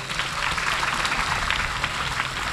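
An audience claps steadily and continuously at a Ramdev Pir birth festival celebration, a dense, even applause that fills the short stretch.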